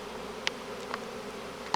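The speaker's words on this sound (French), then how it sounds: "des abeilles se sont mises en position à l'entrée, battent des ailes et envoient le message pour dire allez-y, revenez, revenez" Honeybees fan their wings at a hive entrance after a swarm is recovered from a tree, a continuous close buzzing drone with a few brief louder passes of individual bees.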